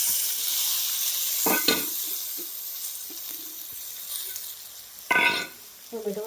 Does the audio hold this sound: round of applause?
no